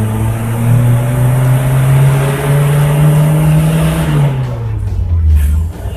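A car engine revs hard near the microphone, climbing steadily in pitch through first gear, then dropping as it shifts into second and pulling again, on a village road with a custom distributor cap fitted.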